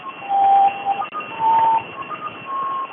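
A numbers station sending Morse code over shortwave radio: faint, uneven tone beeps of varying length in a narrow band over steady hiss and static.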